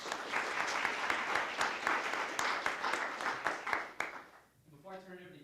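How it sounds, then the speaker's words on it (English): An audience breaks into steady applause for competition participants at a finals event, many hands clapping at moderate distance before fading out as a voice begins speaking. "So I just want to give a round of applause to everybody involved."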